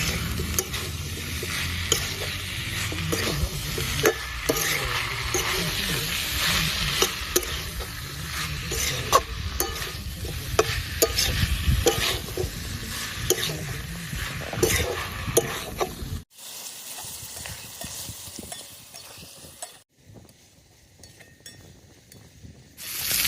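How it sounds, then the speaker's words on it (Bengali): Food is stirred and sautéed in a sizzling pan, with constant scraping and crackling up close for about sixteen seconds. Then it turns suddenly quieter and sparser. "এটাকে ভালো মতো কষবো এর সঙ্গে।"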